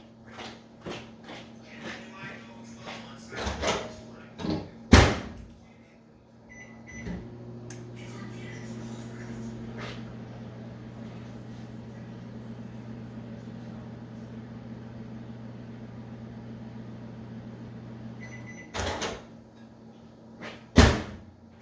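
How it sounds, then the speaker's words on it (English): A microwave door clunks shut, then the oven hums steadily for about twelve seconds before the door thumps open again; faint shuffling around it. "I'm gonna microwave this for another 15 seconds"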